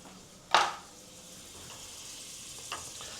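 Two tablespoons of butter hit a hot pan for a cheese sauce, a sharp hiss on contact that fades into a faint, steady sizzle, with a small clink later.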